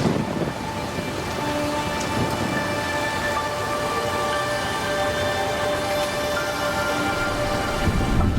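Heavy monsoon rain pours steadily in a dense, unbroken hiss, with low rumbling beneath that suggests thunder, continuous and enveloping throughout.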